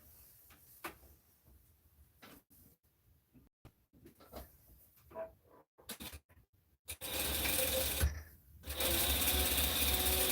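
A sewing machine stitches a French seam on a circle skirt, starting with short bursts amid fabric handling, then running in loud continuous stretches with a brief pause between them.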